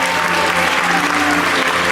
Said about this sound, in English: a warm round of applause, if you will